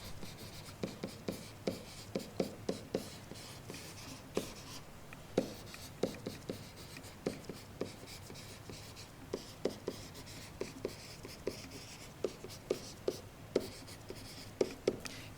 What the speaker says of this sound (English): So what I do is I write down as I go.